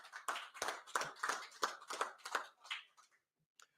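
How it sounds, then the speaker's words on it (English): A small group gives a round of applause at a press event announcing a new president, about eight rhythmic, close claps that fade out, followed by one last tap. "A big round of applause again for them."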